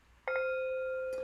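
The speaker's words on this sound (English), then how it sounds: "3 rings of the bell," A meditation bell is struck once to close a session, its clear metallic tone ringing and sustaining steadily in a quiet room.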